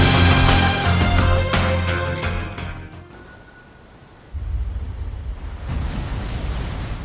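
Heavy surf pounds the North Korean coast at Bukcheong on a day of unusually high waves. A broad, rushing roar of water rises after some tonal music fades out.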